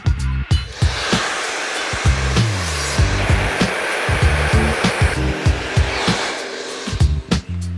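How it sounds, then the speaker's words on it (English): A handheld hair blow dryer roars steadily and loudly throughout while hair is styled into a messy look, its airflow broken by frequent clicks and handling knocks as it moves around the head. "you might need to use the hair blow dryer once again"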